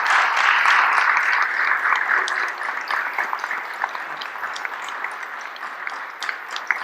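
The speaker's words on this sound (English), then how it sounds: "big round of applause to having" An audience at a medical conference on gene therapy for childhood cerebral ALD claps in a sustained round of applause that thins out gradually into scattered claps.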